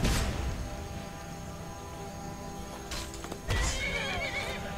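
A horse neighs and whinnies over a steady Skyrim game soundscape with low rumbling and hum, with a second louder burst of activity near the end.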